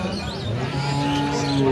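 A cow moos in a long, low drawn-out call nearby, with faint crowd noise around it at a cattle market in Bangladesh.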